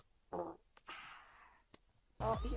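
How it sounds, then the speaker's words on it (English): Short low rumbling bursts with a buzzy, harmonic texture, one early and a louder one at the end, separated by quieter hissy noise. "I'm gonna fart for you guys."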